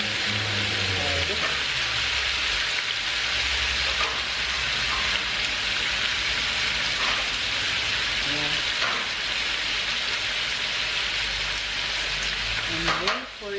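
Garlic sizzles steadily in a hot pan while sweet and sour pork ribs cook, a loud, continuous frying hiss with faint stirring scrapes throughout.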